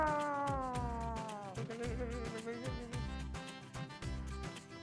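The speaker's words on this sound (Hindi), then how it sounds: "आप खामखा डर रही थी बिल्ली की आवाज से" A cat meows in drawn-out, wavering cries over steady background music, fairly faint.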